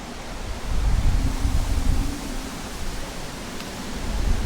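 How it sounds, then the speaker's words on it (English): Strong wind roars and buffets the microphone in heavy, continuous low rumbling gusts, with no voices. "It is super crazy windy right now."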